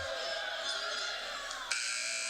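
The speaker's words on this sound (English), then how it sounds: "A block shot there by McKenna Van Zandt at the buzzer" End-of-quarter buzzer at a girls' high school basketball game in an arena, a loud, sustained electronic drone that sounds through the crowd noise, with a sharper tone change near the end.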